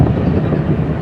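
Brief, loud close-up rumble of a train passing on a railway track near Savda station, a dense low roar with no talk over it.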